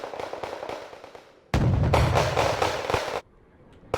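Booming artillery fire in the war game Wargame: Red Dragon, a loud, sustained burst of blasts after a quieter rumble of distant explosions, with no voices over it.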